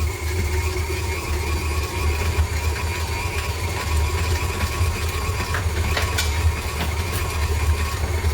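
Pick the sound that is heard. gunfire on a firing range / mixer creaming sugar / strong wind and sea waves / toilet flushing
mixer creaming sugar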